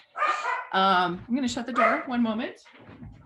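A pet dog barks and yips during an online meeting, short sharp barks mixed with someone speaking close to the microphone.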